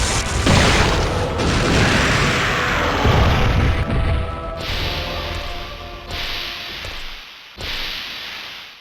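A heavy weapon fires at Nemesis in Resident Evil 3 on PC, a loud booming blast with a sweeping whoosh that rumbles on, followed by several sharp cut-off impacts and mechanical clanks.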